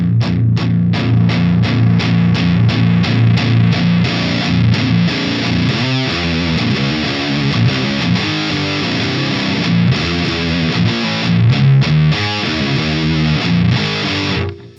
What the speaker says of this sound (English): Rather sludgy, fuzzy kind of distortion